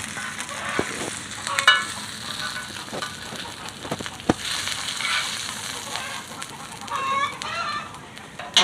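Fish fries in a pan over a wood-fired village stove with a constant sizzle broken by sharp pops and stirring scrapes, while chickens call faintly in the background.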